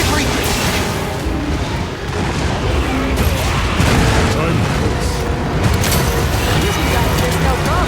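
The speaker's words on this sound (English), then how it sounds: "The compact anti-wyvern guns can reach it!" Compact anti-wyvern guns fire in Monster Hunter Wilds during a Gogmazios hunt, a dense, loud barrage of booming blasts that runs unbroken across the whole stretch.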